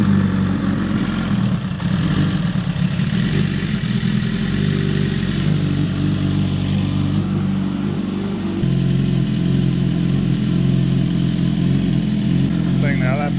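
A Suzuki GSX-R1000 engine runs and idles with a steady low mechanical rumble that shifts and settles partway through, heard close and continuous.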